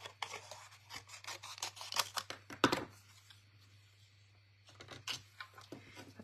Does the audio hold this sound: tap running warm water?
no